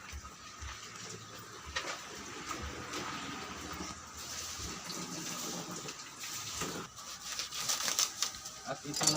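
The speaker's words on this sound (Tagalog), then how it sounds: "Hugasan muna natin ang ang alamang dito sa lababo." Tap water gushes steadily into a kitchen sink while tiny alamang shrimp are rinsed, a continuous broadband rush with some splashing, loud and close throughout.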